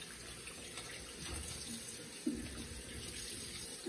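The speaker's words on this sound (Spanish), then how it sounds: "Le vamos a simplemente enjuagarlos en agua." Peppers, tomatoes, cucumbers and other vegetables are rinsed under a running kitchen tap, giving a steady close rush of water with a small splash partway through.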